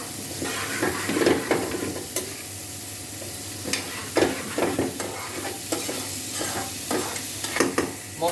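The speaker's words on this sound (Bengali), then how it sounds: "মশলাটাকে একটুখানি কষাবো" Spice paste sautéing in a pan for a Bengali bhetki fish curry with potatoes and cauliflower, a steady close sizzle broken by repeated scraping stirs and clinks of the spoon against the pan.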